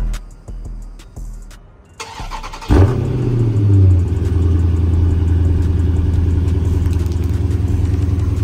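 Cold start of a 2023 Dodge Scat Pack with Dynomax Race Bullets, a sharp crank and bark after a quiet pause, then a deep, steady, rumbling idle heard up close.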